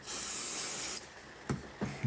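A spray bottle hisses out a steady, close mist for about a second, used to harden material while a tower former is built. A few short thumps and light knocks follow.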